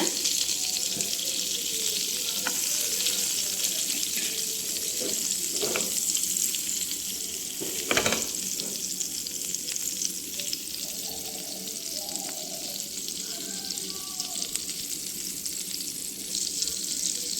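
Vegetables sautéing in butter in a pan, a steady broadband sizzle throughout with a few brief clinks and scrapes of stirring, the sharpest around the middle.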